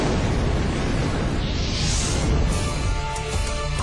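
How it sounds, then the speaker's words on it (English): An aircraft tire bursts inside a recreated cargo hold fire, a dense, roaring blast of noise that stays loud and sustained throughout with a brief swelling hiss in the middle. "The tire in the recreation of the hold has burst."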